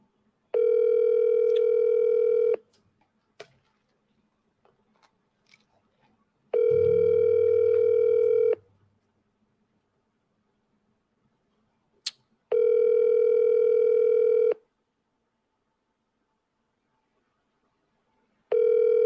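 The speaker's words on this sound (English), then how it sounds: "so I'll call him back again." On an outgoing call, a telephone ringback tone sounds in four long, regular bursts with silent gaps, clear and close, with a faint low thump and small clicks between rings.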